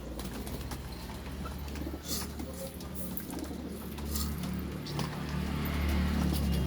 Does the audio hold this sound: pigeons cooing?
yes